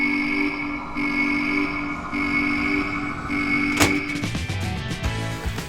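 A kit-built model railway locomotive running on its track, giving a steady whirring mechanical drone with a sharp click partway through and a rougher, busier rattle afterward.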